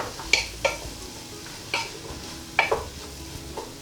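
Vegetables and spices sautéing in a pan for a vegan three-bean chilli, with a soft, steady sizzle broken by several sharp clinks and scrapes of a spoon stirring against the pot.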